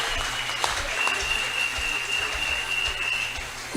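A church congregation applauds loudly and steadily for several seconds, a dense wash of clapping with a faint sustained tone running underneath.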